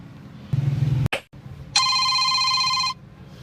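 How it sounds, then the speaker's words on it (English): An old telephone on a busy line gives a short low tone, a sharp click, then a steady buzzing signal lasting about a second before it cuts off, heard close and fairly loud. "The line is busy."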